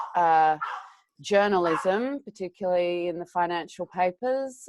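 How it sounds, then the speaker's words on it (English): A dog barks repeatedly in a room at home, loud, sharp yelps mixed in with a person talking over a video call. "I'm so sorry about my dog."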